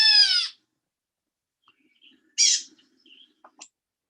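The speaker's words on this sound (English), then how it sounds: "A mockingbird." Northern mockingbird song in separate bursts: a loud harmonic phrase, a pause, then a bright chirpy phrase and a few short faint notes, close and clear.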